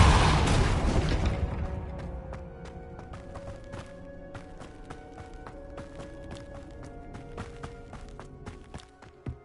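A Depulso spell is cast in Hogwarts Legacy as a loud, broadband blast that opens the clip and decays over about a second. Scattered thuds, footsteps and a sustained tonal hum follow, with no one talking.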